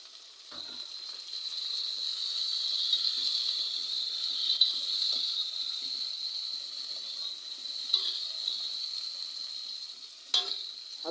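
Meat sizzles in a pan with half-browned onions for an okra and meat dish, a steady, soft frying hiss with a few faint stirring clicks.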